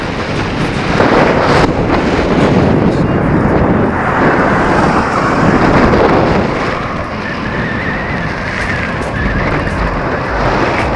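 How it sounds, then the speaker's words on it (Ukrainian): Loud, continuous wind gusting around 12 metres per second, roaring and buffeting a microphone on a bicycle riding downhill, rising and falling over a low road rumble, no clear speech. "Пориви вітру біля 12 метрів, тупо зупиняє."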